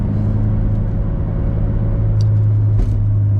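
Car driving along with a steady low engine rumble and road noise throughout, loud and close from inside the cabin, with a faint brief change partway through as the gears shift down.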